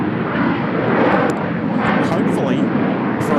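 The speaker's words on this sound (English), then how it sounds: "Little update on our 747 PAX, the 747-8 Intercontinental. Looks like they're just commencing their taxi as well." A Boeing 747-8 Intercontinental taxiing at Incheon Airport, heard as a loud, steady jet engine roar and whine with a broad rumbling hum that stays constant for the whole stretch.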